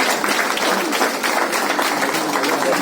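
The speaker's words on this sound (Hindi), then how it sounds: "सब लोग करतल ध्वनि से स्वागत करें, तालियों के साथ स्वागत करें।" A crowd at a Pradesh Congress party office applauds in a welcome, giving loud, continuous clapping with a crisp texture, while voices murmur faintly underneath.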